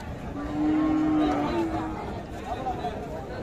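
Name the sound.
cows mooing at Ambari cattle market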